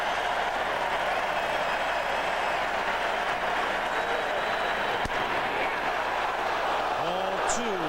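A large baseball stadium crowd at a 2002 NLDS playoff game, St. Louis at Arizona, keeps up a loud, steady roar of cheering and clapping throughout, with a commentator talking over it.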